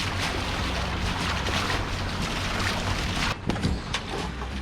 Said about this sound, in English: So I've got the motors on as well, so we're motor sailing.